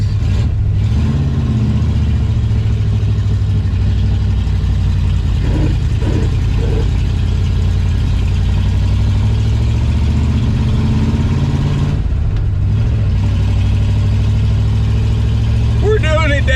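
A 1968 Mercury Cougar engine drones loud and close from inside the car while driving, a steady low rumble that swells as it pulls through gears, with people talking over it.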